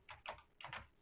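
A computer keyboard clicks in a few quick keystrokes, faint and close, in two short bursts with no voices.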